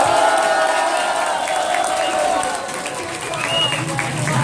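A crowd at an outdoor candlelight memorial vigil for a farmer claps and cheers together, a dense, fairly loud wash of applause mixed with voices that dips briefly midway before swelling again.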